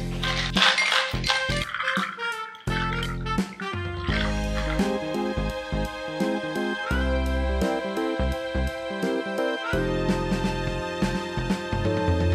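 Small ice cubes drop into glasses with a quick cluster of bright clinks near the start, heard over steady background music that continues afterward.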